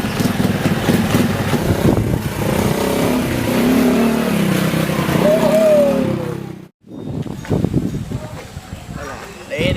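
1000 cc motorcycle engine revving loudly, a rough continuous roar with rising and falling pitch, a brief cut-out near the end and then resuming, amid people talking.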